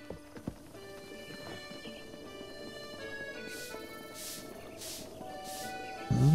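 Horse hooves clip-clopping at a run in Zelda: Breath of the Wild, a steady rhythmic gallop over game music, with a brief whinny near the start and a louder thump at the very end.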